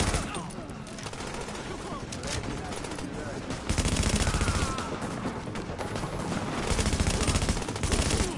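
Gunfire in The Division video game during a firefight: rapid machine-gun bursts and scattered shots crackle loudly and repeatedly, with voices heard between the volleys.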